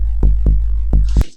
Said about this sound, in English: and a little bit ping pong delay.